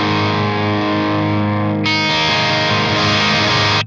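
A crunchy, distorted electric guitar chord rings out loud through an Orange OR30 amp, then a second brighter strum takes over and sustains before cutting off.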